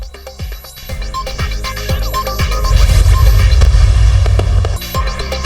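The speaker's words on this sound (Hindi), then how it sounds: "कराची, इस्लामाबाद और लाहौर समेत मुख्तलिफ शहरों में आतिशबाजी, आसमान रंगो नूर में नहा गया।" New Year fireworks burst over Pakistani cities including Karachi, Islamabad and Lahore, a loud, dense string of sharp cracks and pops building into deep, rolling booms that keep going without pause.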